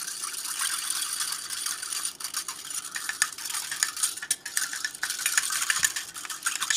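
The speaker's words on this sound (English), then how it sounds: "Let's stir this up some more." A spoon stirs electrolyte drink mix in a cup, giving continuous rapid clinking and scraping with a ratchety, metallic texture, fairly close and steady for several seconds.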